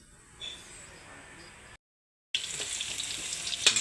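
Chopped garlic dropped into a hot pan for chicken feet adobo, a quiet hiss first, then after a short silence a loud, steady sizzle that builds and stays bright to the end.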